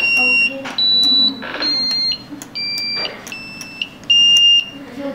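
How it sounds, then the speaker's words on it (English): An Arduino buzzer module sounds a series of short, pure beeping tones at different pitches (do, re, mi, fa, sol, la), one after another with brief pauses between them. "the buzzer module will produce 6 different kinds of tone: Do, Re, Mi, Fa, Sol, La"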